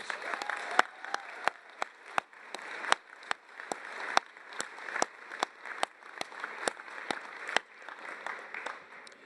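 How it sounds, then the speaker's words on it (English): A round of applause at a commencement celebration, scattered loud individual claps ringing out over a softer bed of distant clapping, sustained and uneven throughout. "Let's give them a big round of applause"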